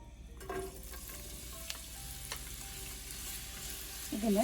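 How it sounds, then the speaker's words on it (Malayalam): Sliced onions frying in hot oil in a pan while a chicken dum biryani is prepared, a steady soft sizzle with faint clinks of stirring, growing briefly louder near the end. "ഈ എണ്ണ ചൂടാകുന്ന സമയത്ത് നമുക്ക് നമ്മൾ അരിഞ്ഞു വെച്ചിരിക്കുന്ന സവോള ഇതിലേക്ക് ഇട്ട് കൊടുക്കാം"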